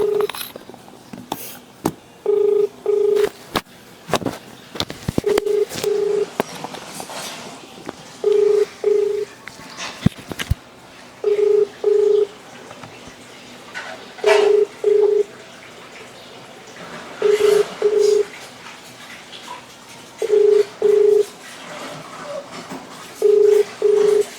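A telephone call rings through the handset as a steady pattern of paired ringback tones repeating every few seconds, loud and clear over quiet room noise.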